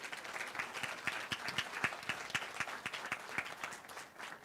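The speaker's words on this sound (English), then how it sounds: "Give them a round of applause, please." An audience claps at a nursing college white coat ceremony for a Bachelor of Science in Nursing cohort, a steady, moderately distant round of applause that holds through the whole stretch with no talk over it.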